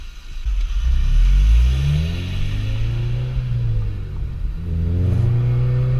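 Supercharged Honda Civic Si FA5, tuned on Honda Flash Pro, accelerating hard through the gears: a loud, close engine note climbing steadily in pitch, dropping at a shift, then rising again.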